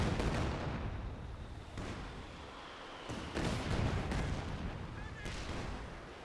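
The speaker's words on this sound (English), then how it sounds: "Katusha barrage comes down." A Katyusha rocket artillery barrage in Company of Heroes 2 rumbles as dense, overlapping booms and crackling blasts, with a caster talking over the game sound.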